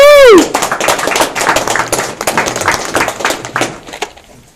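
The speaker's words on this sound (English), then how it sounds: "So really give him a hand of applause" Audience applause for a young presenter at a Vemma event at G's Barn: dense, close clapping and cheering after a brief rising whistle-like whoop, continuing steadily for several seconds before thinning out.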